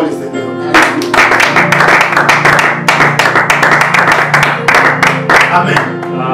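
Church congregation clapping and applauding together in sustained, loud rhythmic bursts, with a sung or spoken voice faintly underneath throughout.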